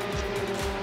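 Euroformula Open race cars at the Red Bull Ring in Austria, a continuous high engine whine with rapid rising sweeps as cars pass close by, loud and steady over the short stretch.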